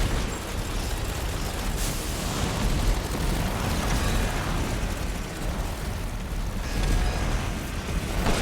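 Pipe bomb explosions in Resident Evil Village, a dense roaring rumble of blasts and debris that stays loud and continuous, with several swelling bursts over the span.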